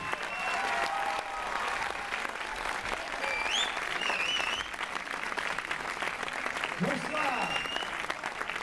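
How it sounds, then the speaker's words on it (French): Dense, sustained audience applause fills a cinema at a film premiere as members of the cast are welcomed. It stays loud and steady throughout, with voices mixed into the crowd noise. "Je vous demande d'applaudir très fort une partie de l'équipe qui est là ce soir."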